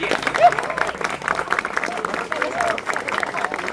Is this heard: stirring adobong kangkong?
no